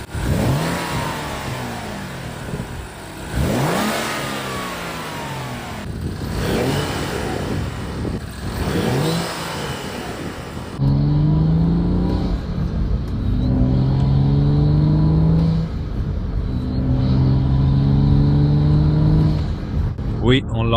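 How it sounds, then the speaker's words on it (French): BMW 335i fitted with a Burger Motorsports cold air intake starts and revs, loud rising and falling engine swells repeated several times, then settling into a steady, throaty idle-level drone close by. "Démarrons-la et accélérons un peu."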